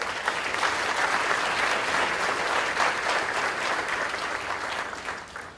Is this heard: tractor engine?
no